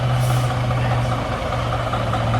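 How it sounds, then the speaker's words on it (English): A Cummins X15 truck engine runs at a steady, loud idle close by, its deep even rumble holding without a break for the whole stretch. "Brian's got in the truck. He started it up."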